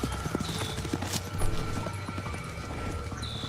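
Horse hooves clip-clop in a quick, steady rhythm across hard ground in a video game, close and prominent, with a faint whinny-like tone and low background noise.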